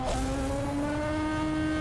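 A car engine in the Need for Speed racing game revs up into a high, rising whine that sounds almost like a cat, loud and close, with faint tire noise and no talking.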